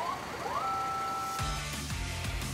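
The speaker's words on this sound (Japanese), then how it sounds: "どんな消防車も出発前にはライトや赤色灯、そしてサイレンなどがちゃんと鳴るかをチェックして出発するんだ" Fire engine siren tested before departure, a steady wailing tone rising then holding, joined by a deeper rhythmic horn or engine pulse partway through, fairly close with no talk.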